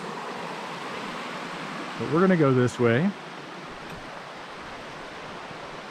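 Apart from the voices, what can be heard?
creek water flowing along a wilderness trail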